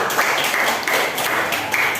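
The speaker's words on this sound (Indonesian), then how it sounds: "beri tepuk tangan untuk kelompok 1" A class applauds a student group after their presentation, a steady patter of clapping from many hands lasting the whole moment, fairly close and even, with no talk over it.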